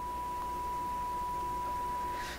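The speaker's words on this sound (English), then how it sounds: "this is a beautiful sine wave. Sounds good, looks good." A steady, unbroken sine-wave test tone plays from an Electrohome Chippendale console stereo, holding one clean pitch for the full two seconds over a faint background hiss.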